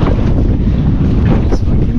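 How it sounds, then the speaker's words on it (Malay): Strong wind roars over the microphone aboard a small fishing boat at sea, a steady, loud, buffeting rush with waves and water noise beneath it, no talk heard. "Angin semakin kuat"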